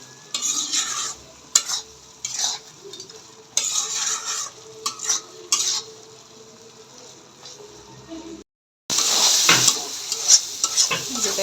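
Fried potatoes being stirred into a sizzling tomato masala make repeated scraping strokes of a spoon against the pan over a constant frying hiss, with a brief silent gap before the sizzle comes back louder.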